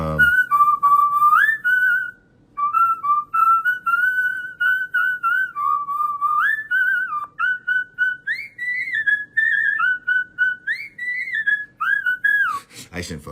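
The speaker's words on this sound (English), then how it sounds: "there's a ton of awesome human whistles in there" A human whistler performs a long, bright melodic line for a music sample pack, with sustained notes, quick slides and trills, close and clear with brief pauses between phrases.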